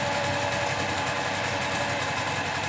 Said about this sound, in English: I got my own sewing machine noise going anyway